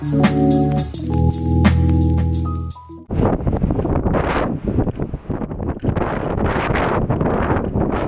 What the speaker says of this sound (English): Probably too windy, so I might explain back at the car.